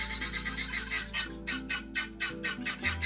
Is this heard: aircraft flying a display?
no